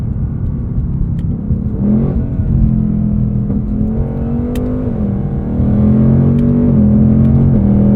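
2024 Ford Mustang Dark Horse V8 with a 10-speed automatic, a steady, deep engine drone under load with several small pitch steps as the transmission downshifts, loud from inside the cabin.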